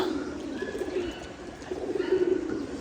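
Pigeons coo softly on a cold, foggy, windy rooftop. Low, rolling calls repeat through the whole stretch, with a fainter chirp now and then.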